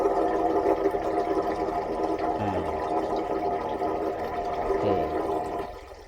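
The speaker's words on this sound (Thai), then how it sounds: "อันนี้กดชักโครกฮะ" A toilet flushes in a motorhome bathroom, a continuous rushing of water that fades out toward the end, with two brief low gurgles along the way.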